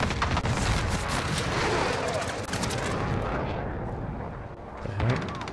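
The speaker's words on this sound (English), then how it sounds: "They're really shooting at me." Gunfire from the Call of Duty Modern Warfare video game, a dense, loud barrage of rapid shots and booming blasts that continues throughout the clip.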